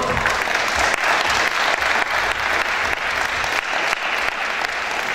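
Steady audience applause at a Miss Oise beauty pageant, a dense, continuous clapping from a large crowd in a hall that holds level throughout without pause.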